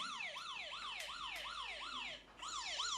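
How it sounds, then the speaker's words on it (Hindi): A mobile phone's anti-theft alarm blares a rapid, repeating rising-and-falling siren wail, steady and fairly close, with a few brief clicks over it and no talking. "जैसे ही मैंने सेंड किया वैसे इस मोबाइल पर ये सायरन बजना शुरू हो गया"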